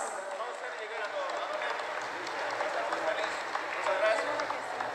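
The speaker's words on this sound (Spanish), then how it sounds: "Fuerte los aplausos." Audience applause at a charango performers' contest, with a steady wash of clapping from a crowd that holds for the whole stretch alongside a voice over a PA.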